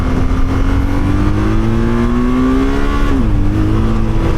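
A BMW R12 GS motorcycle pulls hard in first gear in Enduro Pro mode, its engine note rising steadily and loud up close before a brief dip as the revs fall, with no speech.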